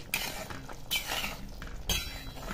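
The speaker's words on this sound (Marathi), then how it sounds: "इझिली चमचा घातला की ते बटाट्याचे तुकडे होतात," Metal spoon pressing into and breaking cooked potato pieces in a pan while making a simple potato bhaji, three scraping clinks at roughly one-second intervals, close and moderately loud with soft rustling between.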